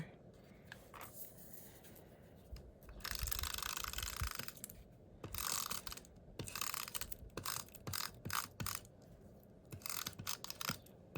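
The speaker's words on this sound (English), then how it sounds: "So I am going to go ahead and use a tape runner." A tape runner lays double-sided adhesive onto paper in a craft session, giving close, crisp ratcheting and rolling bursts that repeat in short strokes with pauses between.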